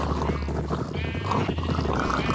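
Sheep bleating in the Minecraft video game, a few short game-style bleats over a steady layer of game background sound, moderately loud and close, with no talking.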